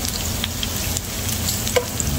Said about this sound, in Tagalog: Lagyan na natin ng sibuyas.